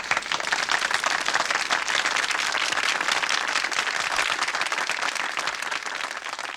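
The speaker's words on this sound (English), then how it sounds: "you can see how everybody just clapped to this" An audience claps in sustained, dense applause that holds loud and even for several seconds, close and full, with no talking over it.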